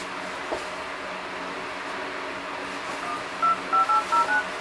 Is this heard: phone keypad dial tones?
yes